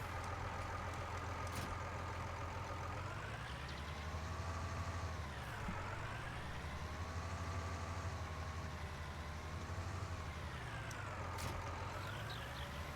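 A tractor engine in the video game Farming Simulator 19 drones steadily, its pitch rising and falling as the machine revs and slows, continuous and alone with no talk.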